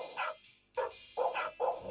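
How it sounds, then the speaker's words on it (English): Cartoonish dog barks from a pug-themed video game: four short, clear woofs in quick succession, moderately quiet and with no talking. "I love the dog sounds."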